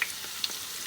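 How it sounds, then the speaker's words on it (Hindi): Chicken gilafi kebabs fry in oil over medium heat, giving a steady hissing sizzle with a couple of faint pops, close and brief with no voices. "एक वक्त में हम लोग 3 कबाब ही फ्राई करेंगे"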